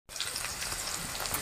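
Spices hit hot oil in a tadka with chilli and garlic, setting off a steady, bright sizzling hiss that starts abruptly and holds evenly, close and moderately loud.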